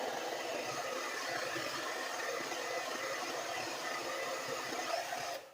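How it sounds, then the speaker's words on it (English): A hair dryer blows a steady, close, even rush of air onto a wet beard and cuts off abruptly at the very end. "So I'm going to hit it again with the hair dryer."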